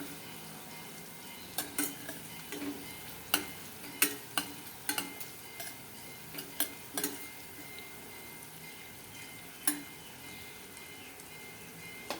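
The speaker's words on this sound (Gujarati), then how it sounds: "તો જો સરસથી આપણા ડુંગળી ટામેટાં સરસથી ચડી ગયા છે" Onions and tomatoes cooking in a pan for a mung bean curry, a soft steady sizzle broken by scattered clinks and scrapes of a spoon stirring against the pan, fairly quiet and close with no talking.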